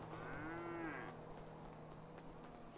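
A cow in a roleplay video game gives a single drawn-out moo that rises and falls in pitch, heard clearly over a steady background hum with no talking.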